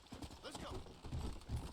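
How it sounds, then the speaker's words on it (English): Horse hooves clip-clopping as a rider mounts up in the video game Red Dead Redemption, a steady rhythmic trot under a low game soundscape, with faint talk mixed in. "So I'm gonna get my horse."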